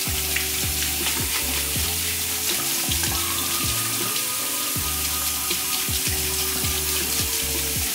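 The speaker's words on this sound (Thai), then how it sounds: "มาเปิดน้ำเลย ขั้นตอนแรกคือให้น้ำไหลผ่านก่อนนะ" A bathroom tap runs water steadily while makeup is rinsed, a continuous wash of splashing under intermittent low clattering and rhythmic tonal sounds from other activity nearby.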